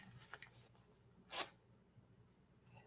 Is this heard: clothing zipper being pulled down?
yes